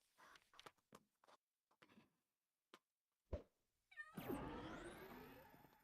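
A Meowth Pokémon cry in the Pixelmon Minecraft mod, heard as a short cat-like meow near the end, after a scatter of brief clicks and taps.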